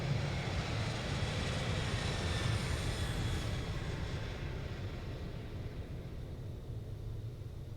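Boeing 737-800 jet engines in the X-Plane 11 flight simulator, a steady loud broadband roar and rumble during the takeoff roll that slowly eases in intensity, with no voices.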